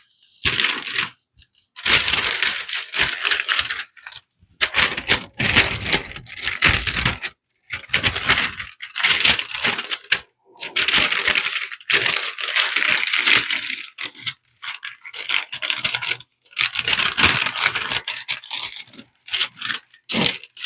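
A razor knife slices through plastic masking film laid over a motorcycle helmet, giving close, crisp crackling and scraping strokes in bursts of one to two seconds, separated by short silent pauses.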